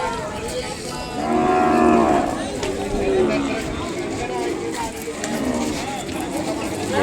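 Ongole bulls low with deep, drawn-out moos at the Kodad cattle market, several calls coming one after another over a busy outdoor background of market chatter and talking voices.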